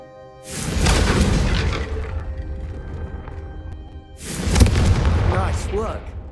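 Confringo fire spell blasts in Hogwarts Legacy, two loud booming bursts a few seconds apart, each fading into a rumbling tail, with game music and voices underneath.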